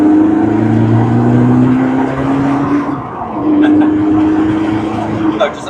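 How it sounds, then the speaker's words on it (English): A 2021 Lotus Elise Final Edition accelerating hard on a straight road, its loud engine note climbing steadily in pitch, dropping briefly at a gear change, then rising again, close and dominant with wind noise. "just opening the throttle up on a straight road there."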